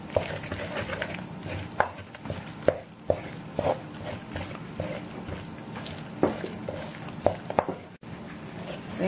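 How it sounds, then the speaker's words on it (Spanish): Churro dough, just taken off the heat, is mixed after eggs are added one at a time, giving irregular close wet slaps, thumps and scraping strokes at a steady working pace. "Seguimos mezclando nuestra masa."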